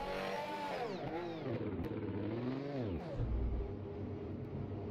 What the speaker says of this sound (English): I go back on the engine sounds of the McLaren